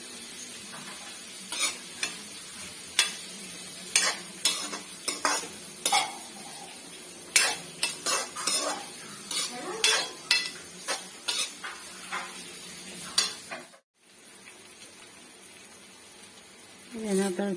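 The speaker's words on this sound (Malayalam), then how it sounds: "ഉള്ളി നല്ലതായിട്ടെല്ലാം വഴന്ന് വന്നു." Onions with salt sauté in a pan for chicken curry as a spoon clanks and scrapes against the metal in a quick, uneven rhythm over a soft sizzle, with a voice speaking and a brief pause near the end.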